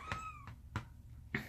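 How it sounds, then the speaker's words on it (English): An indoor house cat meows several times in short, separate calls, fairly close and alone, with a soft knock between them. "Excuse the meowing,"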